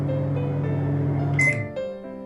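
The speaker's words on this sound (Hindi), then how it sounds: "उसके बाद आप दबाएंगे स्टार्ट बटन एंड आप देख सकते हैं कि ये ऑटो मोड पे चल पड़ेगा" A Samsung microwave oven running in auto mode gives a steady low electrical hum with a faint whir, then a brief sharp click-beep, after which the hum continues more softly.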